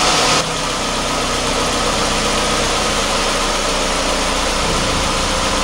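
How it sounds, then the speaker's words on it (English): Car engine running at idle with a fault box setup, a steady close rumble with even vibration and a slight dip in level right at the start, continuing without talk. "as you can tell, the vehicle's running"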